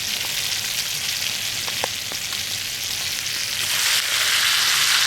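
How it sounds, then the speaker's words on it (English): Steaks sizzle loudly in a hot pan at a motorcycle camp cookout, a dense, continuous hiss that grows stronger toward the end, with a few faint clinks of utensils. "Oh, we're sizzling. Pete, get on the job, man. Let's go. Get those steaks in there."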